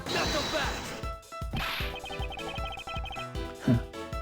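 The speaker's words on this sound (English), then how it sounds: "the hallway mirror wall was broken" Glass of a hallway mirror wall shatters in a video game, a sharp crash and whack layered over rhythmic game music with repeated percussive hits.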